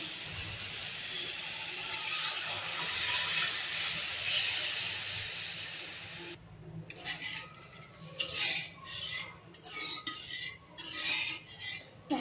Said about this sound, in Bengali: যতক্ষণ না পেঁয়াজটা মাখা মাখা হয়ে যাচ্ছে ততক্ষণ ধরে নাড়তে হবে।